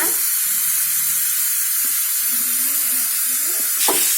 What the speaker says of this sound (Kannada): ಈಗ ಈರುಳ್ಳಿನ ಕೂಡ ಫ್ರೈ ಮಾಡ್ಕೊಳ್ಳೋಣ.